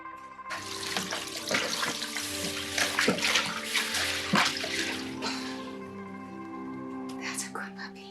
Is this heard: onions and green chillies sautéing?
no